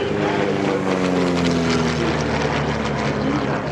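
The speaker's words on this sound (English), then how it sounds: "Then we have one of our aircraft coming through there." A Socata TB-30 Epsilon propeller trainer passes overhead at an air show, its engine a steady, loud drone with a slowly shifting pitch throughout.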